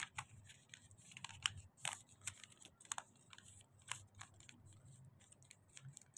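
Scissors cutting paper in a rapid series of sharp snips, close and quiet, with the rhythm irregular and no talking during the cuts.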